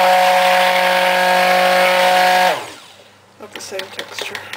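Blender whirring loudly through soap batter for a final mix, a steady high motor drone that abruptly winds down and stops, followed by a voice speaking nearby.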